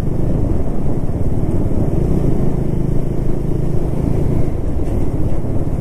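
Motorcycle riding through a toll gate lane on a highway trip, a steady loud engine rumble close by with constant wind and road roar, no one speaking.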